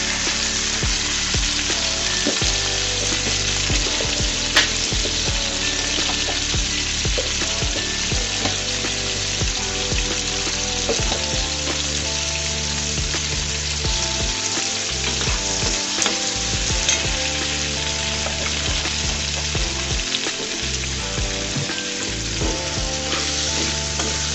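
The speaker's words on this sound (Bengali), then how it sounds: "আলুটাকেও আমি ভেজে নিচ্ছি" Potatoes fry in a pan with a loud, continuous sizzle and crackle that runs unbroken throughout, close up with no talking.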